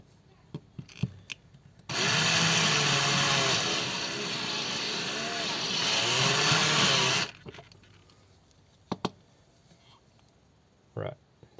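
A power drill bores out the rivet on a Hot Wheels toy car, a steady high-pitched whir running about five seconds between quiet stretches with a few faint clicks and taps.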